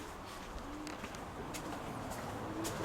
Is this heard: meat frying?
no